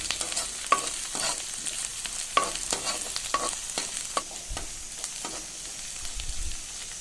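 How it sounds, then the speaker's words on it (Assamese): Onions, ginger, garlic and two dried red chillies frying in oil for a taro and potato curry, a steady sizzle broken by sharp, evenly spaced clinks of a stirring spoon against the pan, with no talking. "ভালদৰে পিঁয়াজখিনি লৰাই অলপ ৰঙচুৱা হ'লৈকে ভাজিলোঁ"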